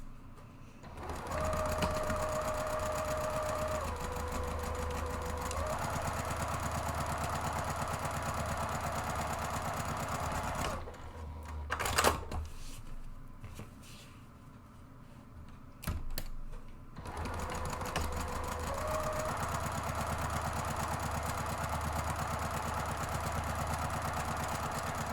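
A sewing machine runs steadily as it stitches the side panels of a fabric purse organizer, with long continuous whirring runs, a pause with light handling clicks, then a second long stitching run, close and fairly quiet.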